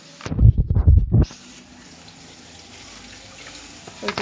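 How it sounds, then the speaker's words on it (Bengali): Water is poured into a pan of potatoes being fried, producing a brief rushing splash and gurgle for about a second, followed by a quiet low simmer. "একটু পরিমাণে জল দিয়ে দেবো কষানোর জন্য।"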